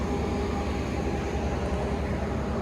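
The Argo Anggrek passenger train rolls past, heard from aboard an economy train as a dense, steady rumble and rush of wheels and air, loud and continuous with no talk.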